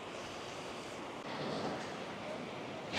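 Ocean waves at Balangan Beach in Uluwatu, Bali, at low tide make a constant broadband wash mixed with wind, growing slightly louder partway through, with no talking.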